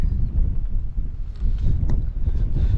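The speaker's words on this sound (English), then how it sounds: "the wind's really picked up here" Strong wind gusts outdoors, buffeting the microphone with a loud, rumbling roar that rises and falls, alone without talk.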